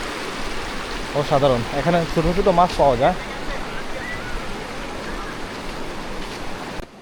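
Clear water from a rocky stream near Bichanakandi, Sylhet, rushes in a continuous broad roar. Someone talks briefly over it partway through, and the flow then continues alone.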